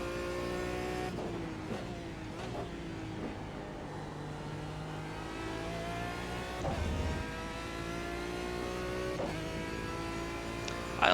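A Lotus 79 or Aston Martin DBR9 GT1 race car is driven in iRacing, its engine droning steadily with rising and falling revs through gear changes, close and continuous without talk.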